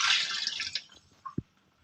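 Water pours into the tank of a Bajaj Frio air cooler with a close, splashy rush that tapers off, ending in a few isolated drips.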